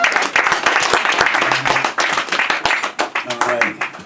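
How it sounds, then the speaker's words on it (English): Audience applause in a room, dense overlapping clapping running steadily throughout, with voices and cheers mixed into the crowd noise. "Give yourselves a round of applause."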